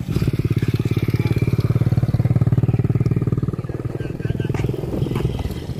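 A motorcycle engine runs close by with a rapid, pulsing throb that holds steady throughout, loud and rhythmic.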